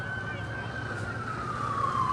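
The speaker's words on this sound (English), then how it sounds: "You got the ambulance coming." An ambulance siren approaching the scene of a crash between a special needs school bus and a pickup truck, a single sustained wailing tone sliding slowly downward over steady traffic rumble.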